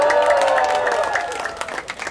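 A choir concert audience claps and cheers in a dense, lively burst of applause that stays loud and then begins to thin out.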